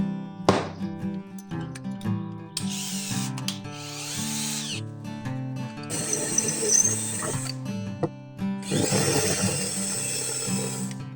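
A power drill whines in repeated bursts while drilling out rivets on a Stiga Villa 11 lawn mower cutting deck, pitch rising and squealing as it bites into metal, with short pauses between runs.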